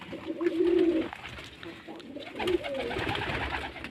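Pigeons coo nearby, with a long throaty call followed by shorter repeated coos over faint background noise.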